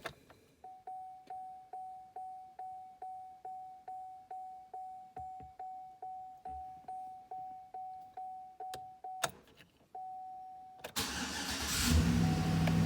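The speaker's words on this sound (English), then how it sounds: "Start it, I get the instant V8." A vehicle chime beeps repeatedly at a steady pace, then the V8 engine of a 2013 GMC Sierra 1500 pickup cranks and roars to life and settles into a loud, rumbling idle.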